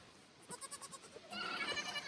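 Goats bleat in a farm pen, a quick run of short nasal calls followed by a longer, louder overlapping bleat, fairly distant and faint.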